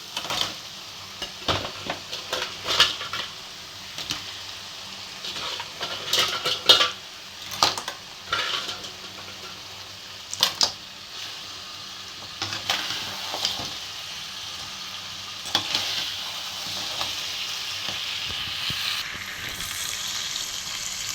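Crab pieces sautéing in a pan for a South Indian crab pepper gravy, with repeated scraping and clinking of a utensil stirring against the pan over a steady soft sizzle, close and alone, with no talk.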